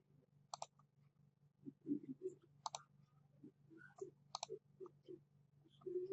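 Computer mouse clicking while browsing for and opening a file on a desktop PC: sharp, isolated clicks at irregular intervals over a low steady hum, fairly faint and close, with no talk.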